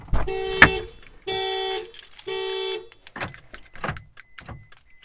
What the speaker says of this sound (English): And I set my car alarm off.